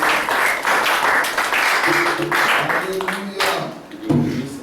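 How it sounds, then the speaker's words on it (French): A church congregation breaks into sustained applause, a dense, loud wash of clapping filling the room, with voices calling out over it. "Acclamation pour le Seigneur."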